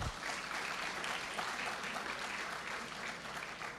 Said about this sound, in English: Applaud yourself.